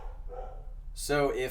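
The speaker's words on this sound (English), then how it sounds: "pardon my dogs." A dog gives a short bark with a yip right at the end, close and loud, over a voice talking during a podcast recording.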